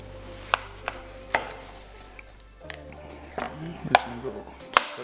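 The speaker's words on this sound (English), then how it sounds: "Let's cut up the zucchini here because we're going to add this in now." A knife chops zucchini into slices on a cutting board for albondigas meatball soup, giving a run of sharp, close knocks at an irregular pace with a low background hum.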